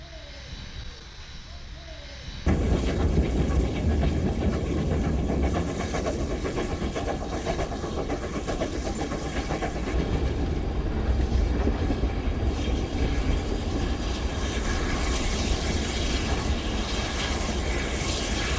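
Rio Grande narrow gauge San Juan passenger train running near Cumbres Pass in Colorado, a loud, steady rumble that starts abruptly after a quieter opening and holds close and continuous to the end.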